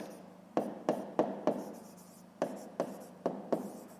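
Handwriting during a fifth-grade math lesson, eight crisp, close strokes of a pen tapping and scratching in an uneven rhythm against a quiet room.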